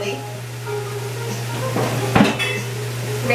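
Pots, pans and lids clatter in a home kitchen during a search for a lid, with scattered clinks and one sharp bang near the end over a steady low hum.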